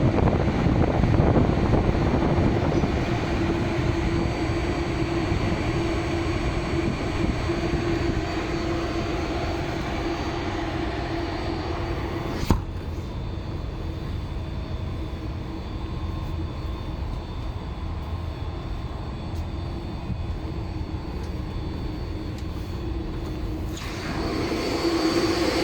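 A rooftop air handling unit fan in an HVAC system runs with a steady, loud broadband whoosh and low hum, continuous throughout with a brief knock midway.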